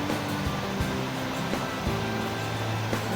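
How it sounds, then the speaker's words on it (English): Steady rushing water pours over a low water dam on a river at Beavers Bend, Oklahoma, a constant broad roar with no pauses, heard from close by. "this was just down the river from us. This little low water dam."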